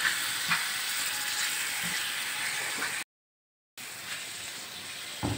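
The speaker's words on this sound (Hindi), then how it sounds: "इसमें अब हम डालेंगे ये 1 पाव कीमा, और थोड़ा सा इसको इसके अंदर फ्राई करेंगे" Minced meat (keema) frying in a hot pan, a steady broadband sizzle with a few faint stirring knocks, cut by a brief dropout of silence midway.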